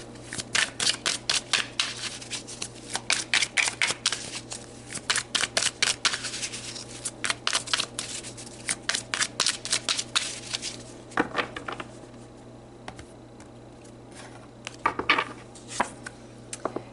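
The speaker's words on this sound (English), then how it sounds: "So let's pull some more cards." Tarot cards being shuffled during a reading, with dense bursts of crisp riffling and flicking in quick repeated runs, close and fairly loud, then a sparser patch of occasional card snaps toward the end, with no talking.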